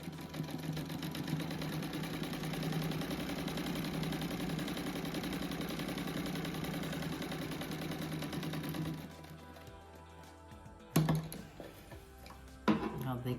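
A sewing machine stitches a strawberry patchwork rug, running in a fast steady whir for several seconds before stopping, followed by a few sharp clicks and knocks.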